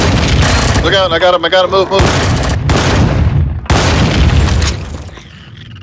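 Turret gunfire and explosions in the sci-fi survival game Empyrion: Galactic Survival, during a mining complex raid: loud repeated booming blasts and bursts of fire, close and dense, with several players shouting over the combat.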